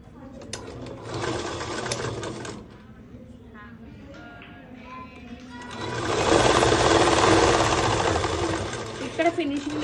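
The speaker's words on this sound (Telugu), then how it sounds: "ఇక్కడ కుట్టు వేసుకోవాలి సమానంగా చూసుకుంటూ." A sewing machine stitching a school uniform skirt runs in two loud close bursts, a short one early and a longer steady one later, separated by a quieter pause with handling sounds and a voice speaking.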